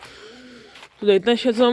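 Pigeons coo in soft, low, repeated calls close by in a dovecote, while someone speaks over them.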